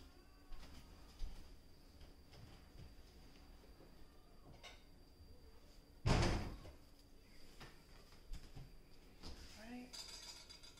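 A bowl is taken from a kitchen cupboard: a cupboard door thuds loudly and dishes clink and clatter nearby against a quiet room.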